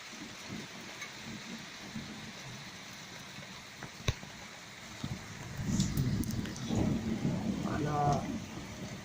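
Thunderstorm at Les Arcs-sur-Argens in the Var, with steady wind-driven rain hissing throughout, a sharp crack near the middle and a low rumble of thunder swelling afterwards, while someone speaks briefly over it.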